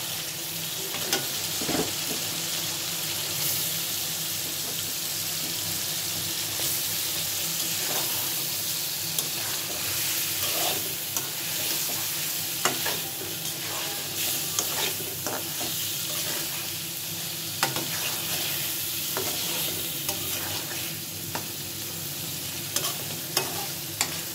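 Tengra fish, egg-laden, sautéing in thick masala for a dopeyaja, with a steady close sizzle and frequent scraping stirs of the spatula against the pan throughout, no talking.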